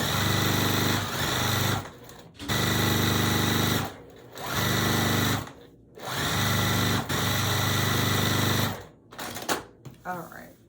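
A sewing machine stitches a barn star sampler quilt block in four loud, close bursts of fast, steady whirring, each a second or two long, with short pauses between them. A brief handling noise follows at the end.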